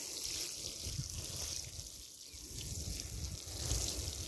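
Water soaks into soft, loose soil of an organic vegetable bed, a steady wet hiss and trickle with low rumbling, continuous and close throughout.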